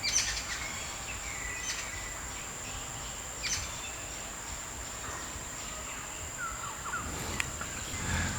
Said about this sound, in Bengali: পাখির কুজন